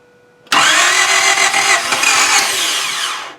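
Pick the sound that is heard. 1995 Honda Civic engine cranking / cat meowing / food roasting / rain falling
1995 Honda Civic engine cranking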